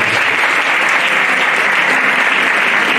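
A church congregation applauds to acclaim the Lord, a loud, dense and continuous clapping that fills the room without pause.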